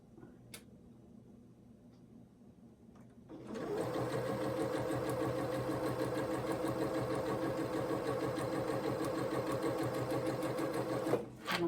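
A domestic sewing machine stitches a quilt block, starting up after a quiet moment and running steadily at moderate speed with a close, even mechanical whir until it stops near the end.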